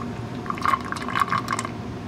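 Brake fluid drained out of a car's brake system by gravity and vacuum during a brake bleed gives a steady close gurgling trickle, with small bubbly pulses rising and falling over about two seconds.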